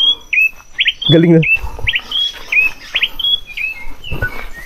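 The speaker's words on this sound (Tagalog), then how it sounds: "Mga ibon na nagtutunugan." Birds chirp and whistle in short repeated calls in a forest on Mount Gerizim, with a brief voice speaking partway through and light rustling beneath.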